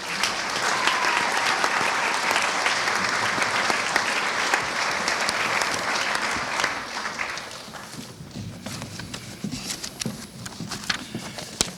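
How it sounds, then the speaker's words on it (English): An audience at a county recreation and parks volunteer awards event applauds park donors, a broad wash of clapping that holds strong for about eight seconds, then thins into scattered, fading claps. "give a round of applause to all those donors"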